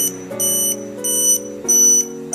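A MESTEK CGD-02 portable digital gas leak detector sounds its alarm: loud, close electronic beeps in three long pulses with short gaps, each a bright multi-tone chord.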